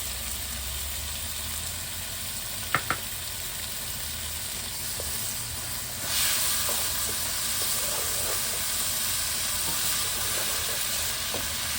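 Garlic and ginger sizzle in a pan for Cajun chicken and shrimp pasta. A quiet hiss swells into a louder, steady fry about halfway through, with a couple of sharp utensil taps early on.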